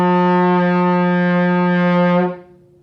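A trombone sustains a steady, loud F in first position with the slide all the way in, one long note held for over two seconds and then released into silence.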